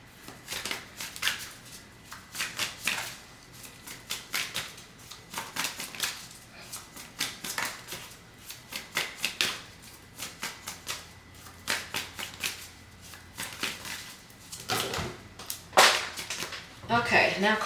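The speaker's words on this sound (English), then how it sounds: "now cards are falling all over the place" Tarot cards spill and get scooped up during a reading, producing a long run of sharp, papery slaps and riffling shuffles in irregular bursts, close and crisp, with no talking over them.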